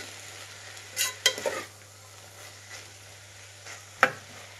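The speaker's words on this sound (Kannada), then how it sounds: "ನೋಡಿ, ಸಾಕು ಫ್ರೈ ಮಾಡಿರೋದು." Mixed sprouts with turmeric stirred and fried in a pan: soft continuous sizzle under a quiet low hum, broken by a few sharp scraping clatters of a spatula against the pan, no speech.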